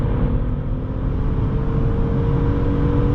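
A 2008 Hyundai Sonata GLS V6 accelerating on the freeway, with a steady loud engine drone blended with road and wind roar, heard from inside the cabin without talk.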